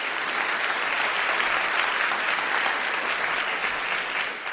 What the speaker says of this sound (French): cela mérite un grand applaudissement pour accueillir tous ceux qui nous rejoignent aujourd'hui.